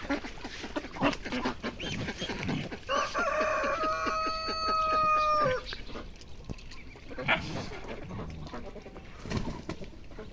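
A rooster crows loudly nearby, a long drawn-out call, while other birds cluck and scuffle around it and a few brief sounds punctuate the scene.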